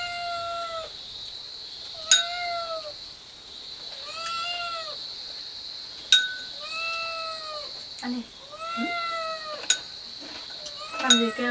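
A cat on a farm meows repeatedly, about six or seven clear rising-and-falling cries close by, with a steady high ringing tone and occasional sharp clicks in the background.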